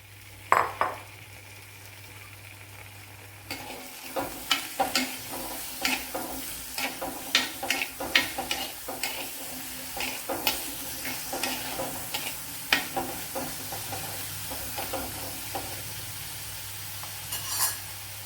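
Okra frying in coconut oil in a pan, a close sizzle with a rapid series of sharp clinks and scrapes as the pieces are stirred, quieter hissing at start and end.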